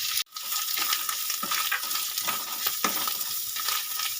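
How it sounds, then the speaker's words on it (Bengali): Vermicelli (semai) fries in a pan with a steady, bright sizzle, while stirring makes occasional soft scrapes and taps. The sound is close and moderately loud, with no talking. "এবারে দিয়ে দেবো সিমাই এবারে সিমাইটা হালকা আছে আমি দু থেকে আড়াই মিনিট মতন একটু ভেজে নেব"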